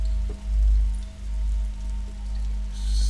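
Rain in The Signifier hisses softly beneath a heavy, pulsing low-frequency rumble and a faint steady tone, with a brighter burst of splashing noise rising near the end.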